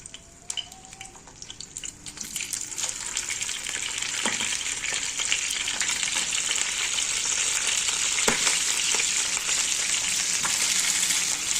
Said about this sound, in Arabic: انا هحط الفراخ تتحمر عادي خالص